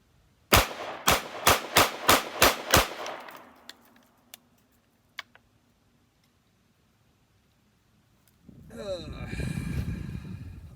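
Seven gunshots fire in a rapid, evenly spaced burst as a magazine is emptied at a shooting range, loud and sharp, followed by a few scattered faint clicks, then wind rumble at the end.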